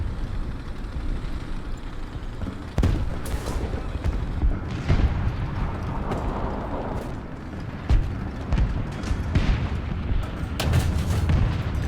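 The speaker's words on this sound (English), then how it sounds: "more arty on the concentrated enemies." Artillery fire booms through a War Thunder tank battle involving a German Panzer III Ausf. J1 medium tank, with repeated heavy blasts and crackling impacts over a constant rumbling engine drone, some shots sharp and close, others more distant.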